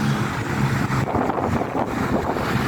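Steady, rushing wind buffets the microphone while a kite is flown outdoors, a constant loud roar with gusty fluctuations and no talking.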